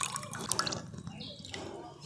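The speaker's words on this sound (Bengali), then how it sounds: "জলটা ফেলে দিই, জলটা ফেলে দিয়ে চিড়েগুলোকে ছেঁকে নিই।" Water splashes and drips as it is poured off washed flattened rice (chira) in a bowl, a soft close liquid trickle with small splashes, no talking.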